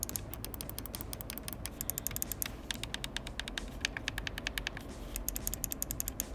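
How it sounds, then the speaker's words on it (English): Rapid crisp clicking of micro switch buttons on an ROG Raikiri Pro II Xbox controller, many sharp mouse-like clicks in quick irregular bursts, close and fairly quiet, with a short pause midway. "Everything is clicky without exception, using micro switches that feel very similar to a mouse click."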